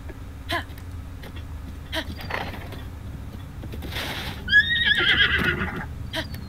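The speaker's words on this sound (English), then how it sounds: "This horse just freaks out every path I try to make them go." A horse in The Legend of Zelda: Breath of the Wild whinnies loudly in a rising, wavering cry, preceded by scattered clicks and knocks and a low background rumble.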